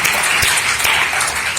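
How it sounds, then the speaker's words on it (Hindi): An audience at a theatre performance claps loudly and steadily after the children's play, a dense wash of many hands with a few sharper individual claps standing out and no speech. "एक बार जोरदार तालियों के साथ इन बच्चों का"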